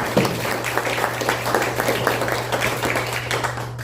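A small audience at a Gold Star veterans event in El Dorado County, California, claps in a modest, moderately loud round of applause, with individual claps audible over a low steady electrical hum.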